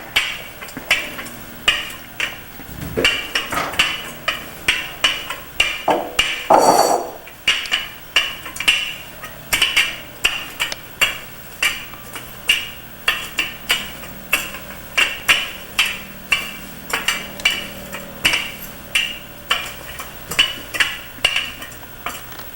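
Apple pie crust dough being rolled out with a rolling pin on a work surface, giving a steady series of short rhythmic knocks and clicks, close and moderately loud, with no talk.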